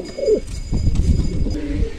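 Pigeons in a loft give soft, low cooing calls, a few close burbling phrases, with faint shuffling and rustling in the background and no speech.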